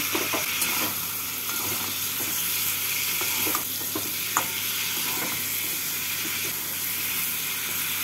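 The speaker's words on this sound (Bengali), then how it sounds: "পটলগুলোকে দিয়ে মশলার সাথে নাড়াচাড়া করে নেব" Fried pointed gourd (potol) is stirred through a sizzling spice masala in a pan for doi potol, with a steady close sizzle and occasional spatula scrapes.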